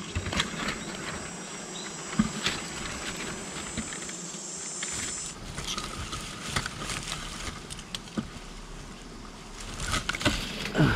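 A thin, steady buzz of stinging bees or wasps drones in the background with scattered light taps and rustles, fairly quiet and without talk.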